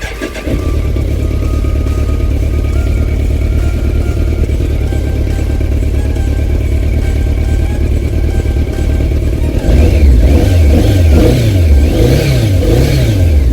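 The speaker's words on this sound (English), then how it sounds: "Now let's hear how the engine works." A BMW K 1200 RS motorcycle's inline-four engine idles steadily and close up, then around the ten-second mark it is revved repeatedly in loud rising and falling surges, with no talking.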